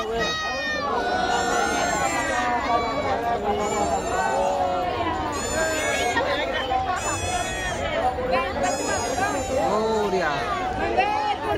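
Dense crowd hubbub on a festival raft, many overlapping voices and shouts forming a steady loud babble throughout, with high-pitched calls rising above the mass of chatter.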